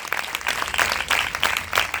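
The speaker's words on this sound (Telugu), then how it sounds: "చప్పట్లు కొట్టి ప్రభుకు స్తోత్రం చెప్తాను." A church congregation at a gospel meeting claps hands in praise, a quick burst of rhythmic group clapping heard from a middle distance.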